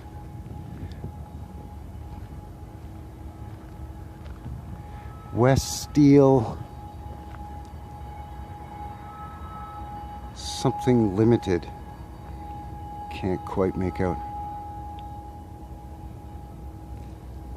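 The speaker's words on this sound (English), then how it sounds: "Sound you hear behind me is a train." A distant train rumbles with a steady low drone and a constant tone in the background, while someone speaks briefly in short bursts.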